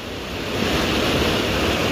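A hill river swollen by monsoon rain in the Sawan season roars in a steady, dense rush of water, loud and continuous with no pauses and no voices over it.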